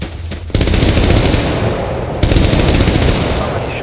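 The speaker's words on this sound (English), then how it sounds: "Somebody shooting" Loud, sustained bursts of automatic gunfire from weapons in the online shooter Stay Out / Stalker Online, starting abruptly, running continuously, then a second burst kicking in midway, with no pause between rounds.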